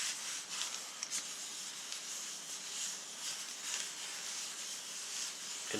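Combat team marker tokens for the Space Hulk Death Angel board game being shuffled face down on a table, a soft, continuous rubbing and hissing scrape with small clicks, close and fairly quiet.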